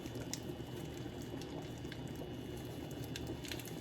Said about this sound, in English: I have my pasta boiling away.